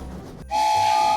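Toy-like candy cane train in a preschool Christmas setting: a low rumbling chug gives way to a sustained steady whistle tone that holds loud to the end.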